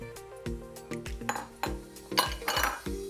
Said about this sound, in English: I have a large bowl here, so in go the beets and the butternut squash.